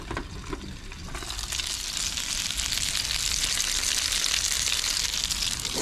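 Spiced chili beef burgers fry in a pan, a steady loud sizzle and crackle that swells after the first second and keeps hissing evenly.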